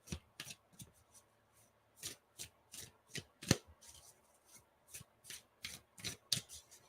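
Tarot cards being shuffled for a pick-a-card reading, heard as a series of soft, close riffles and flicks in irregular bursts with brief pauses and no speech.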